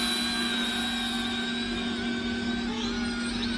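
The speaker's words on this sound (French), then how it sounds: "Alors il tourne très vite notre petit drone." Small MJX V1 mini drone with its propellers spinning fast, giving a steady, close, continuous high-pitched whine that holds level throughout with no talking.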